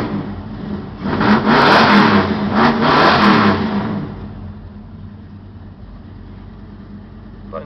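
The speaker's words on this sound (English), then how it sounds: "Car starts, and should start." A 1967 Dodge Dart drag car with a 383 stroker engine cranks, catches and revs hard in two loud bursts, then settles into a lumpy, rumbling idle close by.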